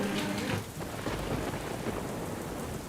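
Heavy downpour in Surat hammers down as a dense, loud wash of rain, steady and unbroken throughout with a deep rumbling undertone and no voices.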